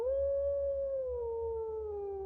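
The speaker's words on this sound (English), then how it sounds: "a wolf's howl" A lone wolf howls in one long, clear, sustained note that slowly falls in pitch, close and unbroken, over a faint low background hum.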